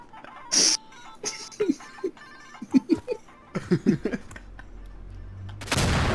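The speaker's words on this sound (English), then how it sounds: "the Nokia, Arabic Nokia ringtone" An Arabic Nokia ringtone plays as a string of short melodic tones mixed with bursts of talk, sharp noises and a loud noisy blast at the end.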